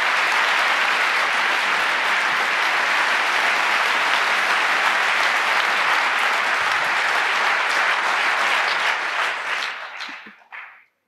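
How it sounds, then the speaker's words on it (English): A large audience applauds steadily at a talk or conference stage event, dense sustained clapping that holds loud for about nine seconds before quickly tapering off to silence. "please give a warm round of applause to all three of those"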